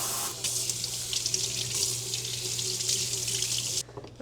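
Kitchen tap runs steadily as vegetables with trimmed tips are rinsed beneath it, a continuous close splashing hiss that cuts off abruptly near the end, leaving a few faint drips.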